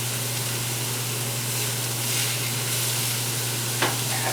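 Hot oil sizzling in a pan with vegetables for a vegan pasta dish, a loud steady frying hiss up close, with a brief clack near the end.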